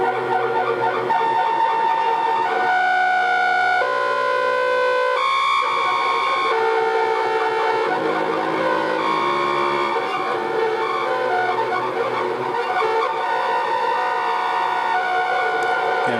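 A Kaseta tape delay eurorack module, built from a ZLOSynth kit, wobbles sustained synth tones as its speed and depth shift with the drive turned fully up, giving loud, warbling, siren-like pitch sweeps with no talking.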